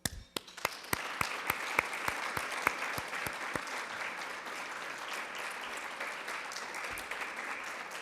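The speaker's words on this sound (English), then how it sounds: "Please join me in giving them a round of applause." An audience at an award luncheon applauds, starting with a few sharp near claps and swelling into sustained, dense clapping from a crowd that continues to the end.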